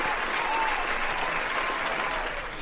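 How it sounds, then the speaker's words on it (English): Audience applause fills a podcast studio, a steady dense wash of clapping that holds at an even level throughout, fading slightly near the end. "This round of applause right here."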